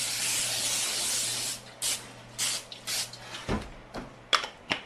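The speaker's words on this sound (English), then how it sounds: "spray it down real good with some nonstick cooking spray" A long hissing spray from a can of nonstick cooking spray onto foil, followed by several short bursts of spraying, close and distinct.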